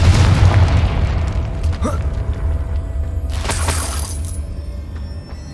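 A Confringo explosion spell in a wizarding video game bursts with a deep booming blast over a low rumble, followed by a sharper crackling flare a couple of seconds later.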